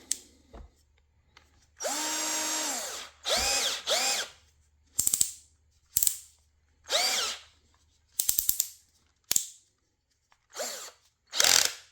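A 21V Brookstone cordless power drill, set to speed 7, revs in a series of short bursts, some brief and stuttering, others held for about a second, with quiet gaps between them.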